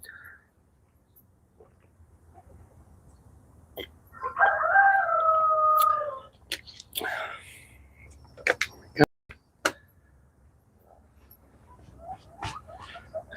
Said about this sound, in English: I'm going to make this rooster chill out